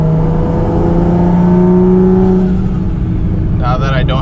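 A turbocharged car fitted with a large performance intake filter from a booster performance kit, heard from inside with the windows up, pulls under acceleration with a loud steady engine drone and rising whir, easing off near the end.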